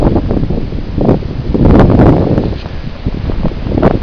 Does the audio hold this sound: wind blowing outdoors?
yes